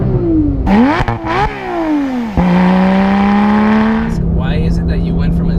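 A Porsche GT3 engine revved high while in neutral, climbing and falling in pitch through sharp blips, then holding a loud, sustained high rev before dropping back, heard up close.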